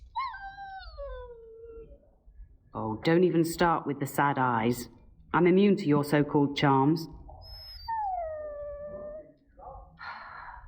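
Dog in Dragon Age Origins whining in long falling howls, first alone, then again after a stretch of close male dialogue, the mournful cries sliding downward in pitch each time.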